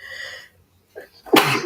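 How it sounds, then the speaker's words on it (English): One sharp, explosive human sneeze bursts out near the end, loud and close, after a brief voiced sound and a moment of near silence. "I think I have to sneeze."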